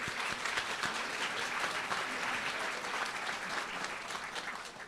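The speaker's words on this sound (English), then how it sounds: "Yeah, you can clap." An audience at a school board of education meeting applauds warmly and steadily, a full, continuous wash of clapping that holds level for several seconds and eases slightly at the close.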